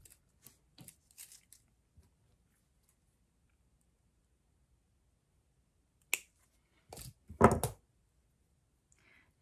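Scissors cut a short length of material for the halo of a small jelly roll angel ornament, heard as a few faint snips early on and then a louder cluster of sharp cuts near the end, with no talking.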